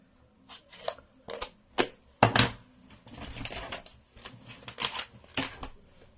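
Scissors snip through a greetings card in a series of short crisp cuts at an uneven pace, close and fairly quiet, with soft paper handling between the snips.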